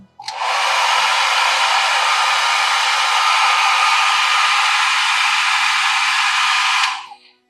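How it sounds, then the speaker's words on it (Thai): A hair dryer switched by a solid state relay whirs on with a steady high airy rush, holds evenly for several seconds, then cuts off abruptly. "ไดเป่าผม"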